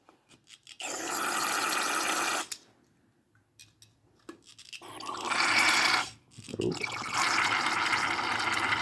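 Carburetor cleaner sprays in strong hissing bursts through the passages of an Edelbrock 750 carburetor, close and loud, with three long blasts separated by short pauses and small clicks.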